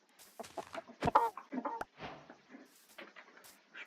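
Chicken clucks in a Minecraft-style game, a series of short, close clucking calls and a few sharp clicks spread irregularly over a few seconds, with no talk over them.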